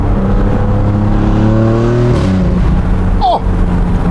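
Maserati MC20 Cielo engine revving loudly out on a countryside road, with steady harmonic tones that climb, then drop sharply around the midpoint, followed by rougher rumble and a brief sharp chirp near the end.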